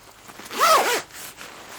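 Zipper on a Mountain Hardwear Phantom Alpine sleeping bag, pulled in one quick, close rasping stroke with a faint softer zip afterward, heard alone.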